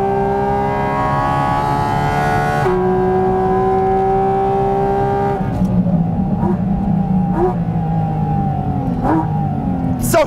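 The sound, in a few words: car driving fast and braking hard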